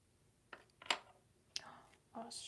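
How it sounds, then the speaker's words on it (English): Pencil coloring in a coloring book, heard as a few close, brief scratchy strokes spaced apart, the last one longer and brighter, with no talk over them. "I moved my mic down so I can get more of the pencil noise"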